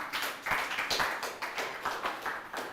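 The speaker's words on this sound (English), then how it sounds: "Please, a round of applause again." Applause from an audience at a press conference for a football league draw, a steady patter of many hands clapping at moderate volume, continuous across the whole stretch with no talk.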